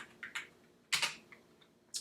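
Quiet, close keystrokes tap on a computer keyboard in a short irregular run of about six clicks, one slightly louder press in the middle.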